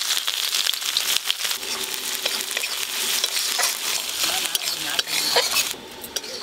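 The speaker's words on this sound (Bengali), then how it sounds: "আদা রসুনটা বেশ ভালো করে লাল লাল করে ভাজা হয়ে গেছে।" Chopped ginger and garlic fry in a pan of hot oil for chilli chicken, giving a steady close sizzle broken by scraping, clinking stirs of a utensil throughout.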